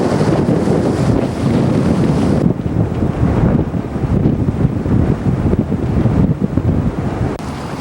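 A strong beam wind buffets the microphone as the yacht Fiona sails up the Tagus River toward Lisbon, with gusty roaring and water rushing along the hull, continuous and loud, with no voices.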